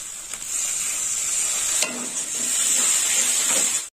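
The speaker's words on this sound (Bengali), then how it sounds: "মশলাটা একটু ভালোভাবে কষা হবে, মশলাটা লেগে যাচ্ছে।" Spiced masala with chilli powder frying and stirred in a pan as it begins to stick, a close, steady hiss of sizzling with a few sharp spatula scrapes and knocks.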